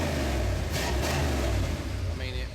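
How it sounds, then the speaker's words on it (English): A truck engine with its exhaust cut off and missing idles in a loud, continuous, raspy rumble right up close, holding steady with a little surge partway through and no speech. "The exhaust is ridiculously loud, mainly because it don't have any exhaust."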